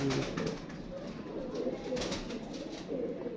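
Pigeons, kept by a fancier as breeding pairs, coo steadily at dusk in a loft, a soft continuous murmur of several birds close by with no talk.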